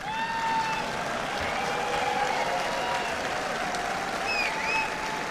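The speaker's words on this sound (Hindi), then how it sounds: "ये ताली दम वाली क्यों नहीं थी" An audience at a real estate youth conference claps continuously, a dense, even patter of applause that fills the room for the whole stretch with no speech over it.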